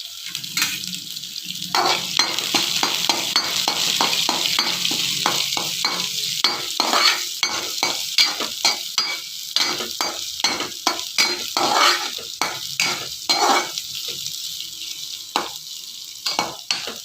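Onions and chilli sizzle steadily in a hot pan for a Tamil drumstick-leaf and egg stir-fry, with frequent scraping stirs and spoon taps on the metal breaking through the constant frying hiss, close and fairly loud.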